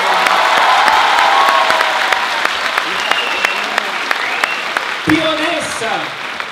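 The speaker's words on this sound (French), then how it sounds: "Je vous demande un tonnerre d'applaudissements pour les noobs" A festival conference crowd claps for the NOOB guests on stage, dense sustained applause with sharp individual claps, and a voice speaks near the end.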